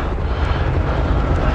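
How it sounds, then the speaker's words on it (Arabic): Military aircraft approach as a film sound effect, a dense, continuous engine roar that stays loud and steady with no voices. "طيارات"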